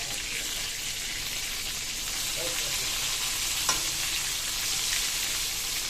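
Food frying in a pan and being stirred, giving a dense, constant sizzle close by, with a few faint scraping clicks and no voices.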